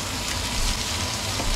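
Onions sizzle steadily in a hot pan, making an even, close crackle of frying that holds at a constant level with no voices over it.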